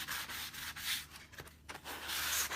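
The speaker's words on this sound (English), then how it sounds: "And I'm going to take my sanding sponge, just a little softer." Soft sanding sponge rubbed over painted wood wall decor, a close, quiet run of scratchy back-and-forth strokes with brief pauses between passes.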